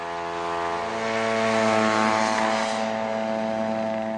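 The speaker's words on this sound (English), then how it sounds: "the U.S. Marines sent an unmanned spy plane on a routine flight over Iraqi positions in southern Kuwait" An unmanned spy plane flies a routine flight over Iraqi positions in southern Kuwait, its propeller engine droning steadily with a buzzing harmonic whine that swells slightly and holds, with no voices.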